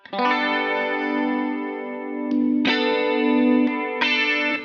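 A Jazzmaster electric guitar strummed through its pickups rings out in three sustained chords, each struck cleanly and left to ring with a chorus-like shimmer, played alone without talk.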